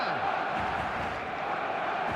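A dense stadium crowd of football fans roars in the eFootball video game, a steady, unbroken wash of massed voices under a commentator talking.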